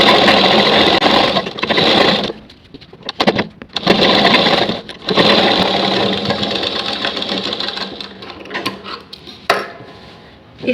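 A sewing machine runs in loud, close bursts while stitching elastic onto the waistband of ladies' pants, its motor whirring steadily with brief pauses between runs.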